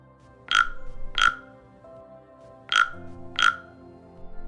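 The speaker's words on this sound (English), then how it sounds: "it was a frog sitting near the pond, gazing at her intently" A frog near a pond gives four short, loud croaks, two close together, a pause, then two more, each sharp and distinct over a quiet background with faint music.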